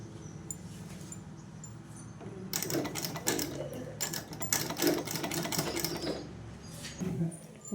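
A sewing machine stitches piping onto cloth with rapid, close mechanical chattering in several bursts separated by brief pauses, with a faint voice in the background.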